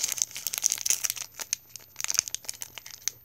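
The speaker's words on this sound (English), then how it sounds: "Now, let's open up our Primal Clash pack." A Pokémon Primal Clash booster pack's foil wrapper crinkling and tearing open, with dense, bright crackling bursts in quick irregular clusters, close to the mic and fairly loud, without talking.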